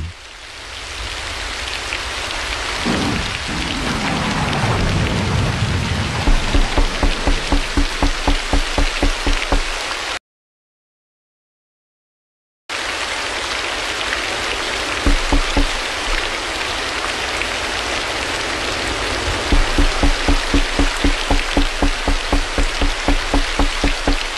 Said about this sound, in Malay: Hujan beserta guruh waktu malam.